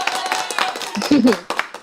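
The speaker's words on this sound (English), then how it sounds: "Our studio audience, giving you a big round of applause here." Studio audience on a college-themed talk show claps in a brief, crisp patter while a host speaks over it.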